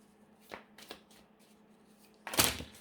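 Tarot cards being shuffled during a card reading: a few soft riffling bursts early on, then one louder, denser flurry near the end, heard close and without talk.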